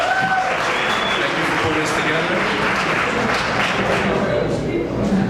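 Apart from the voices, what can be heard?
applause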